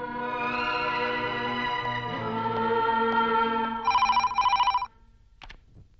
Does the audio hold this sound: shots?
no